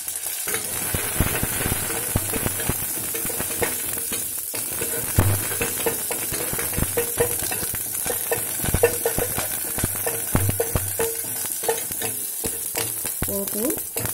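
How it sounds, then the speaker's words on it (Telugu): Dried and green chilies, mustard seeds and cumin frying in ghee, a steady close sizzle dense with rapid pops and crackles, loud and continuous with no talking. "పోపు, ఎండుమిరపకాయలు, పచ్చిమిరపకాయలు, ఆవాలు, జీలకర్ర వేసాం కదా."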